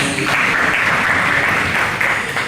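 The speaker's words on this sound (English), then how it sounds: "Let's give them a round of applause." A crowd applauds steadily, a dense wash of clapping that holds at an even level throughout.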